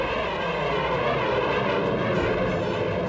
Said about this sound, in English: some of the world's best pilots roar through the skies